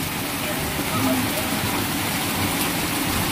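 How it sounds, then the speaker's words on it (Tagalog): Heavy rain pours down steadily during a birthday gathering amid a power outage, a dense, even hiss that holds at the same loud level throughout without letting up. "grabe lakas ang ulan"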